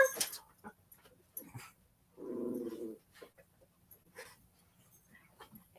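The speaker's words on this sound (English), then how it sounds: "If you heard the growling, that was Layla." A small dog gives one low, rumbling growl lasting under a second, surrounded by quiet scattered household noises and faint distant sounds, with no talk over it.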